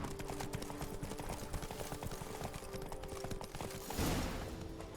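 Hooves clip-clop in a steady rhythm as the horse Roach trots in The Witcher 3, close and continuous, with a louder rustle of movement near the end as the horse is reined in.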